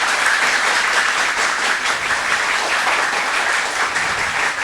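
An audience in a school quiz competition hall breaks into sustained, dense applause, steady and loud from start to finish with no talking over it.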